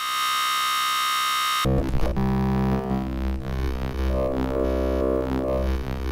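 An M8 Tracker wavetable synthesizer at maximum sample size: a bright, buzzy synth tone holds, then shifts into a rich, evolving texture with shifting formant-like tones and deep bass.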